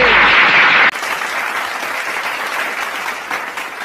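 Audience clapping and applause at a political speech, loud and dense from the start, then continuing slightly softer as a steady wash of hands with no voices over it.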